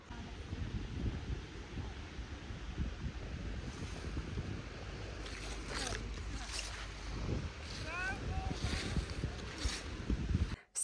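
Cold breeze blowing outdoors in a park, a steady rushing wind that buffets the microphone throughout, with faint distant voices and scattered chirps behind it.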